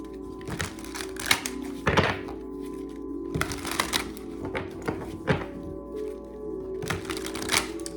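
Tarot cards being shuffled, with irregular crisp snaps and thunks of the deck riffling and tapping together, close and fairly loud, without talking.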